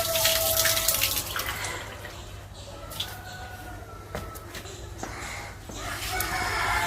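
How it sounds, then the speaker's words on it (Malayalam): Filtered water runs from the tap of a Jalamithra natural water filter, a continuous hissing splash that is louder at the start and end and softer in the middle. "ഇത് കണ്ടില്ലേ, ഫിൽറ്റർ ചെയ്ത വെള്ളമാണ് ഈ വരുന്നത്."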